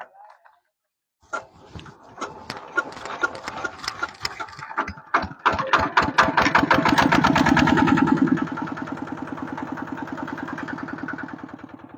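A farm tractor used for hauling and scooping soil starts up with sputtering thumps that build into a loud, fast chugging engine run nearby, then settles into a steadier rhythmic idle.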